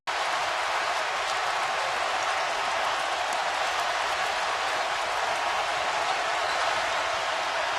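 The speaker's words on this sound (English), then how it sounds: "Crowd applauding the effort of the defensive end by the Tar Heels" Basketball arena crowd at a North Carolina Tar Heels game applauding a defensive effort, a continuous, even roar of clapping filling the whole stretch without pauses.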